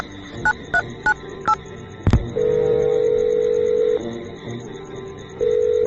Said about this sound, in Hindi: उसके कश खींचते हुए अपने मोबाइल से किसी को फोन करने लग जाता है।